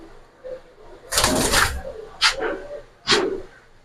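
Racer pigeons give a few close coos and soft calls in separate bursts, the first longer and fuller, then two shorter calls, with some muffled background noise between them.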